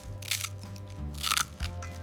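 Crisp, loud crunching of potato chips being bitten and broken in a few sharp bursts over a low steady hum, close up.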